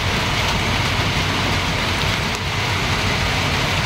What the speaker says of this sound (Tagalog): Ulan ng Palawan